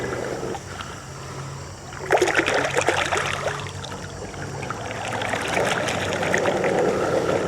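WYBOT C2 pool robot moving along the wall of an above-ground pool, a soft motor hum with bursts of churning, splashing water that swell midway and keep up.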